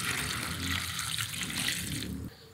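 Tap water runs steadily into a kitchen sink while fresh ginger is rinsed, a close and fairly loud splashing gush that keeps going and then stops near the end.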